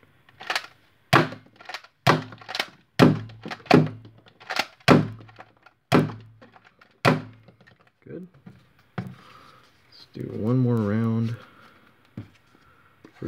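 A 3D-printed seven-shot Hammershot foam blaster fires with sharp, close thunks, several shots in a quick uneven series, followed by a brief mechanical rattle and a short voiced sound near the end.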